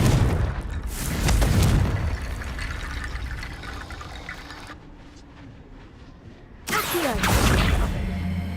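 The Confringo fire spell in Hogwarts Legacy bursts with loud booming blasts, one near the start and another late on, separated by a quieter rumbling stretch of game ambience, with no voices.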